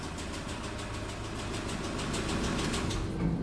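A Hyundai D4CB diesel engine in an H-1 (i800) van, not yet at operating temperature and with a failed bottom end, runs steadily with a continuous rough diesel clatter and regular ticking knocks, close and fairly loud.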